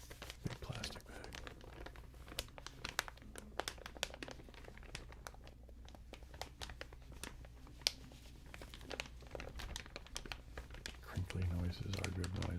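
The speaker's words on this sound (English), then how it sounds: "Big plastic bag." A big plastic bag is crinkled and crumpled close up, a long run of dense, irregular crackles and sharp snaps that keep going throughout.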